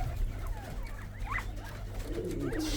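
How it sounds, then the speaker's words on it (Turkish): Pigeons, including Norwich and Mexican breeds, cooing softly in a coop, a few low murmuring coos over a steady background hum, faint and unaccompanied by speech. "Tabi güvercinler acıkmış."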